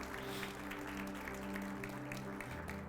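A church congregation applauds softly at a Sunday service, quiet scattered clapping over sustained instrumental tones that shift in pitch near the end.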